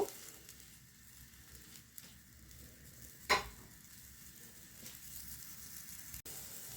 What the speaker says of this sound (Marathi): कालवणाला बघा उकळी आलेली आहे